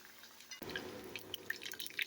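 Banana flower vada dropped into hot oil starts a sudden bubbling sizzle, with quick crackles and pops over a faint, quiet background.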